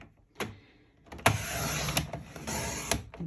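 A paper trimmer blade slides through cardstock, cutting it down to 6 inches: a faint tap, then a close, continuous scraping run lasting about two seconds.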